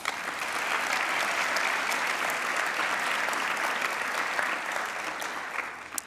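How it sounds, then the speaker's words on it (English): Sustained applause from a large audience at a charity fundraising event honouring its members, a dense, steady wash of clapping holding at full level for several seconds before easing slightly at the end. "give a round of applause to all of our members"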